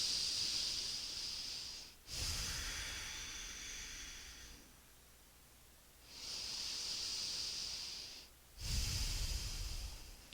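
Deep, slow breathing held in a yoga goddess pose, two long hissing inhale and exhale cycles heard up close, each closing with a softer, lower rush of air.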